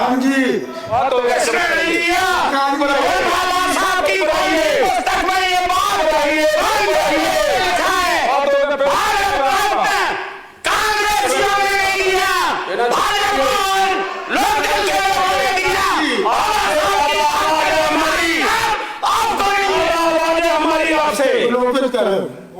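Legislators shout and clamor in a state legislative assembly, a loud, near-constant babble of raised voices overlapping a speaker's talk, with only brief dips in the din.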